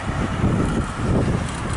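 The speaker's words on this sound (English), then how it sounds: "I know it's very windy, so I don't know if you can hear me or not." Strong wind buffets the microphone during an outdoor bike ride, a loud, continuous low rumble and roar with gusting swells and no clear speech.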